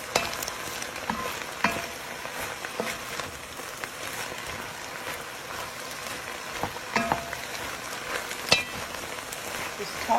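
Peppers fry and sizzle in a pan for pepper steak, a steady hiss broken by occasional knocks and scrapes as they are stirred close up.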